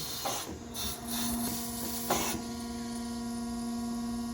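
A Willis Machinery automatic surface grinder runs with a steady machine hum and a strong tonal whine, broken by a few brief clicks and bursts near the start, close and continuous with no talking.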